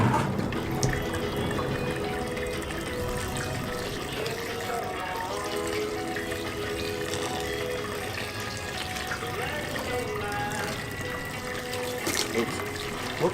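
Liquid draining and trickling from grain or a mash bag during a hazy IPA homebrew, a steady wet dribble with splashes, heard under people talking nearby throughout.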